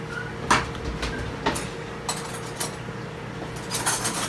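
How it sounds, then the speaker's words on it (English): Knife cutting a piece off a bag-cooked smoked chicken from a Weber Smokey Mountain, a few sharp close clicks and scrapes against a board or pan, spaced irregularly over quiet background. "Let's cut a little piece here and see what it tastes like."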